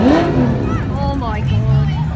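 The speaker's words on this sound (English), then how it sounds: "he's gonna do a wheelspin, watch." Car spinning its wheels at a Stockton car meet, a loud engine climbing and swooping in pitch with a roaring, rasping tone, close by, while excited spectators shout over it.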